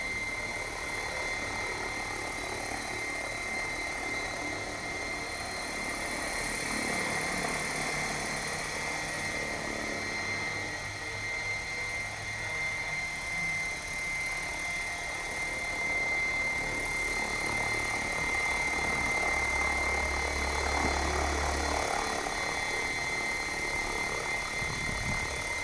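An Assault 700 RC helicopter in flight, its rotor spinning at about 2000 RPM, gives a steady loud whining drone with a high tonal buzz that holds throughout, heard outdoors with no talking.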